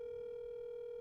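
A steady telephone tone drones on with no break, one flat pitch held clearly for the whole second as a call rings out toward voicemail.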